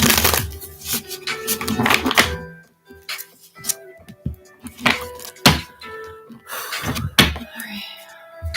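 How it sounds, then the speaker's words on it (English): Tarot cards are riffled and shuffled in several quick crisp bursts, with soft taps and pauses between, close up. "I'm gonna shuffle one more time."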